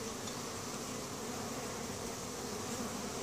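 Dense, steady buzzing of many honey bees packed into a crowded hive while a honey super is added, a continuous close hum with no pauses and no voices.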